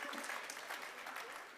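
Theatre audience applauding a Shakespeare actor's stage performance, a dense steady patter of many hands filling the short moment, with a voice speaking faintly underneath.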